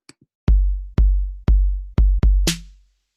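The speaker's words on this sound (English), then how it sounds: "I'm just gonna create a pretty basic hip hop beat." A basic hip hop beat played on an electronic drum kit in beat-making software: loud, booming kick-like hits land at a steady pulse, ending with a brighter crash-like hit, with no talking.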